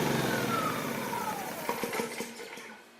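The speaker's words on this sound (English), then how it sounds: "turn the switch for the motor on, and pull the starter." A Yamaha EF1000iS 1000-watt inverter generator runs steadily, its small engine giving a continuous near hum that slowly fades toward the end with a few light knocks, no voices.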